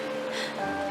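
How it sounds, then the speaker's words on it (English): Steady hiss of falling rain in Honkai: Star Rail fills the moment, a dense broad wash with a faint tonal hum underneath, no voices. "This is the sound of rain."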